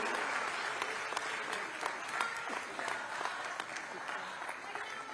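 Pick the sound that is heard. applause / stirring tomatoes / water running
applause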